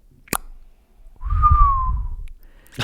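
A voice imitates a baseball bat hitting a ball: a sharp pop followed by a rising-then-falling whistled tone, fairly close, with a click at the end.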